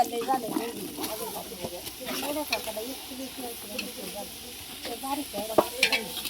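Coconut, garlic, peanuts and masoor dal frying and being stirred in a large pot, a steady sizzle with scraping stir strokes throughout, people talking over it.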